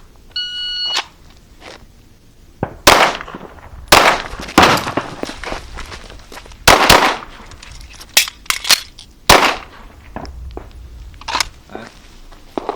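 Carbine and pistol shots crack out in a shooting drill, a fast uneven string of loud, close reports with brief gaps for a reload, and some footsteps and movement between the bursts.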